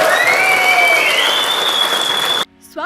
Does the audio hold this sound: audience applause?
yes